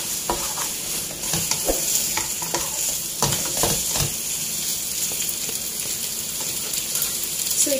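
Chicken pieces for rendang, toasted with star anise and tamarind, sizzle steadily in a hot pan while a utensil scrapes and stirs them in repeated close, clattering strokes.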